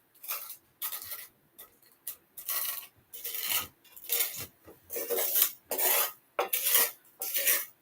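Calcium material crushed and scraped over a hot pan in rhythmic rasping strokes, about a dozen close, gritty scrapes, each a short burst separated by brief pauses.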